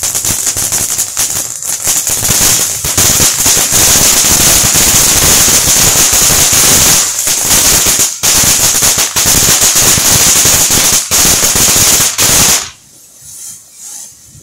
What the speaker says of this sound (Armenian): 2023 թվականի վերջին հրավառությունը